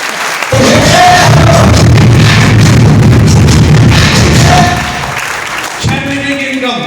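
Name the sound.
audience clapping at seminar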